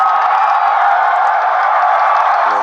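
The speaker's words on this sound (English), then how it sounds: "They're on their feet cheering every single run." A large crowd at a Nepal versus USA T20 cricket match roars and cheers in a steady, dense wall of noise that carries on without a break.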